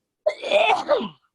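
A single short sneeze indoors, a sharp burst with a brief trailing second push, close and alone.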